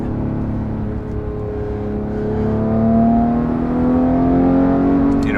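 Porsche GT3 Touring engine pulling through the gears from inside the cabin, a loud steady rising drone climbing in pitch, continuous and close with no talking.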